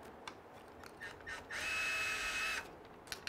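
A screwdriver prying and scraping plastic parts off an Arrma Kraton RC car: a few faint clicks, then a second-long high-pitched squeak of strained plastic, with light taps afterward in a quiet room.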